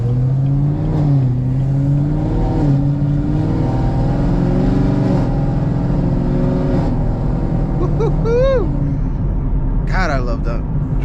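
A 750 HP Chevrolet Camaro ZL1 engine drones loud and steady from inside the car on backroads, rising and falling in pitch as it accelerates and shifts, with a brief higher whine near the end.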